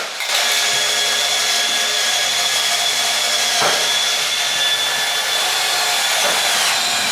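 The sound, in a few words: cordless drill driver driving self-tapping screw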